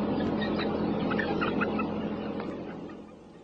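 Broiler chickens crowded on a factory farm cluck and chirp over a dense, constant background din of many birds, with the scattered calls moderately close.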